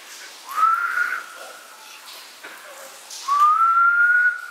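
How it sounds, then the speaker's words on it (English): A person whistles inside an old tunnel, two long rising notes separated by a pause, ringing with echo against a quiet, hollow background. "You want me to whistle again?"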